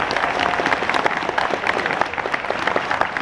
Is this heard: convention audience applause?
yes